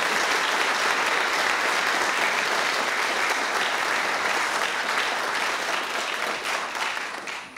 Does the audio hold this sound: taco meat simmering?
no